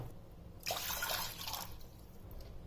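A short burst of a bowl of water pouring into a pot, lasting about a second, over a quiet background.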